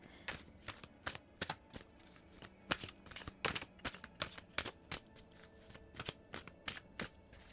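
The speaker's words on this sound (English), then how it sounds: "So I'm going to shuffle this one more time." A deck of tarot cards is shuffled up close in quick, irregular bursts of crisp riffling and slapping, with brief pauses between bursts and no talking.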